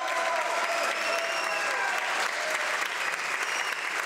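Sustained, thunderous applause in the House of Commons as an MP crosses the floor, a steady wash of many hands clapping, heard at a moderate distance.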